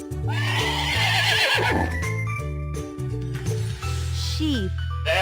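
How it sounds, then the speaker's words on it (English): A horse whinnies loudly in a long, wavering neigh over a steady musical backing of a kids' animal-sounds song, with a second shorter whinny near the end. "Horse."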